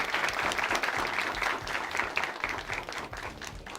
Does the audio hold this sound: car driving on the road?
no